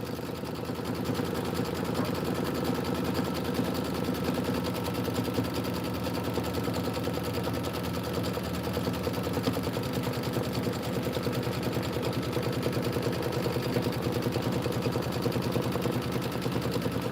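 A sewing machine runs a tack-down stitch on a Kimberbell home-sewn tile project in a sewing shop, a dense, steady rapid clatter that continues loud and unbroken throughout.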